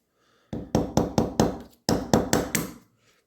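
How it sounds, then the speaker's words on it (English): A wooden dowel pushing a pin into an MR223 HK416 lower receiver gives eight close, sharp knocking taps in a steady rhythm, with a short pause partway through. "now I'm just gonna push it in with the wooden rod,"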